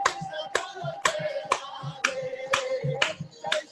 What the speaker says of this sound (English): Okay, we can clap now, everybody.